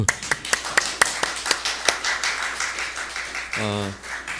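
A few scattered hand claps ring out at an uneven pace in a church service, fairly close, followed by a brief low humming tone.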